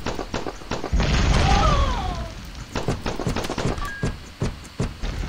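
Video game explosions in a Gunslugs-style action game make a rumbling boom near the start, followed by a steady run of quick punchy blasts and thumps. Electronic chirps are mixed in.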